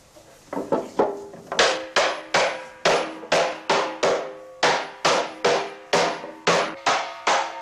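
A metal hoop is hammered down onto a wooden barrel with a steady series of loud, sharp blows, evenly spaced at about two per second and heard close up with no talk.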